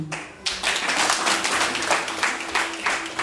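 A wedding-ceremony audience breaks into dense, continuous clapping that swells right after a brief pause and holds steady throughout, with a faint tone running underneath.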